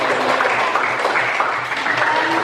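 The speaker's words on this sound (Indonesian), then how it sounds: "aplaus dulu" An audience at a classroom presentation applauds, giving a steady, dense wash of clapping that stays even and fairly close throughout.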